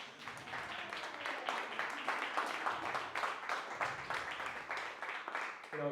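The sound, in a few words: audience applause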